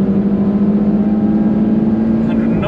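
An Audi RS3 powers on at speed, producing a loud, close, steady engine drone that holds throughout with little change in pitch.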